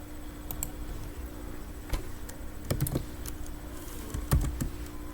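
Java code is typed on a computer keyboard: scattered, fairly faint key clicks at an uneven pace over a steady low hum, with no talking.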